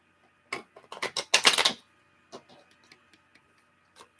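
Tarot cards being shuffled by hand, a quick burst of dense papery riffling clicks followed by a few sparse soft card taps, close and alone with no talk.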